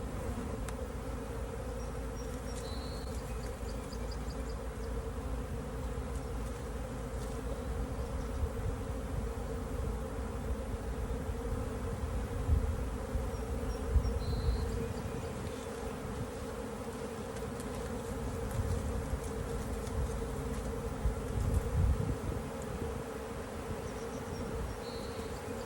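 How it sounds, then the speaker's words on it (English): A large swarm of honey bees buzzes continuously in a bee yard during a swarm catch, a dense steady hum with no voices, fairly soft and even throughout. "Now that is a lot of bees."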